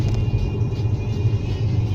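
Loud, steady engine and road rumble from a car on the AMG circuit, a continuous close drone with no speech.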